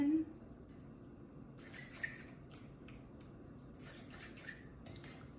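A metal spoon scrapes and clinks against a bowl, stirring lemon juice into homemade hummus in bursts of quiet, close tapping and scraping, with faint kitchen background.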